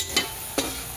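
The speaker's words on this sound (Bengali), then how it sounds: "এখানে মশলা কষানো হচ্ছে, ওইদিকে মটরশুঁটি ভাজা হচ্ছে" Spices fry in oil in a pan for a vegetable curry, a steady hiss punctuated by two sharp scraping stirs about half a second apart, close and fairly loud.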